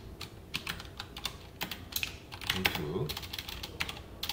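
Rapid clicking of a computer keyboard as someone types text into a Java JDBC text-board program, keystrokes in quick irregular bursts close up, with someone speaking over the typing.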